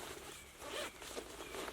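A zipper on a Ridgeline Evolution Smock rain jacket is pulled in a few quick rasping strokes, close and quiet, with faint fabric rustle and no speech.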